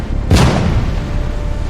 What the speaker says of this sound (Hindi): इंडोनेशिया के सुमात्रा द्वीप पर टोबा सुपर वॉल्केनो फट गया।